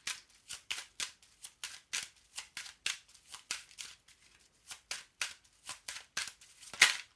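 Tarot cards being shuffled and handled before a final card is drawn from the deck, a quick irregular run of crisp papery flicks and snaps, close and fairly quiet.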